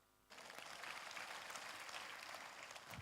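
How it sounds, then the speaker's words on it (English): Audience applause for a student honoured at a university event: dense, even clapping starts abruptly from a quiet room and carries on steadily, heard faintly at a distance. "Round of applause for her."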